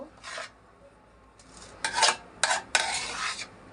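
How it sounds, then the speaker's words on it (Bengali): Pulao rice mixed with chicken, malai and spices is stirred in a pot, giving several short scraping, rasping strokes of a spoon against the metal, separated by quiet pauses and growing busier toward the end. "ভালোভাবে মিশিয়ে দিচ্ছি মাংসের সাথে, মাংসের মশলা ও মাংসের সাথে ভালোভাবে যেন পোলাও চাল মিশে যায়, এই জন্য ভালোভাবে নাড়া দিতে হবে"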